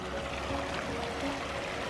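A river flows in a steady, broad rush of water, close and continuous throughout with no voices over it.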